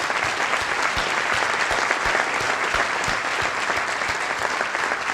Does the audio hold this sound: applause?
yes